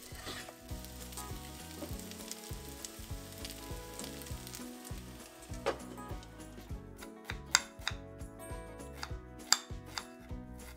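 Steady sizzling and frying of parboiled taro in a hot pan, with occasional clinks and scraping as the taro is tossed and stirred.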